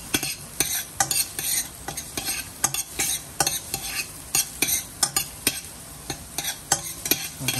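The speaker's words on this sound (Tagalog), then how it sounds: "naluluto na ang ating bawang at sibuyas" Garlic and onion sautéing in a pan for chicken tinola with chayote and malunggay, a steady sizzle cut by repeated sharp scrapes of a utensil stirring, close and without talk.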